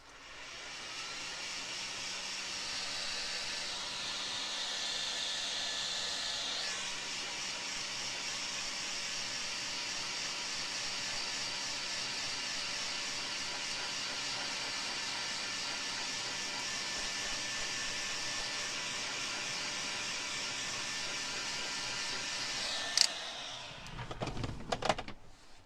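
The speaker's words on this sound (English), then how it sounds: "I'm going to dry it a little bit with the blow dryer, so give me just a minute and it'll make a racket" A handheld blow dryer runs continuously on wet tooled leather, a loud, even whooshing whine holding steady for about twenty seconds before cutting off with a few handling clatters.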